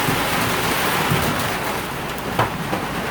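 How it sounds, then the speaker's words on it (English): Steady rain falls outdoors at a motocross workshop during a Honda CRF450R engine rebuild, a constant dense hiss throughout with one brief louder patter near the end and no voices. "And it's raining."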